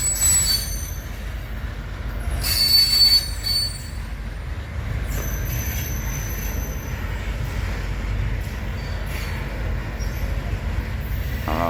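A BNSF freight train, including an old Burlington Northern coal hopper, rolls past close by with a continuous metallic rumble and high, piercing wheel squeals rising and fading over the steady rail noise.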